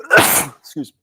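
A single loud, close sneeze bursts out, followed by a brief spoken apology.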